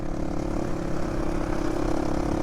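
A GPX FSE450R motorcycle engine, a 2022 model, runs with a steady, even drone after being electric-started, loud and continuous throughout with no voices over it.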